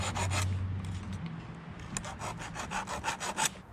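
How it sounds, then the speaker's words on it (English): A flat file rasps across the top of a chainsaw depth gauge, first in a long continuous rub, then in a run of short, rhythmic scraping strokes, close and clear with no talking. "run the flat file over the top of the depth gauge to bring it down a bit"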